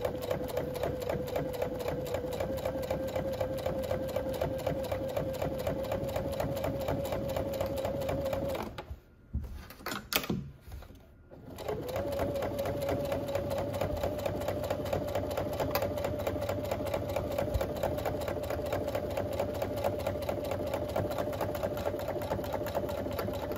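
A sewing machine stitches fabric slowly around a pin on a casserole carrier project, its steady rapid needle chatter running close and even, pausing briefly midway with a few clicks before resuming.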